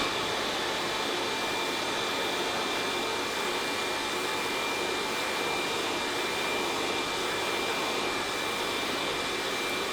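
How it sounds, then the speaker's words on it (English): A hair dryer blows steadily at close range on a beard while it is combed, a constant loud whooshing roar with a thin high whine, running unbroken with no talking. "I'm using the comb and the dryer together."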